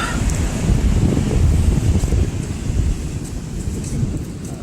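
Large ocean waves roar and wash against the shore under steady gusting wind, a loud, continuous broadband rumble that swells and eases with no voices.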